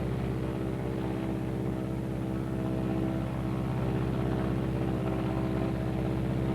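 Engines of a Martin B-26 bomber hold a steady, loud, low droning hum as the aircraft glides in on approach with flaps down, unbroken and with no voices.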